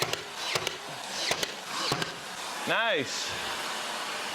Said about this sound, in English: I left the dust extractor running this whole time